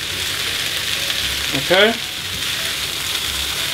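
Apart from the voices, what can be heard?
ackee and saltfish frying, sizzling as the pan is shaken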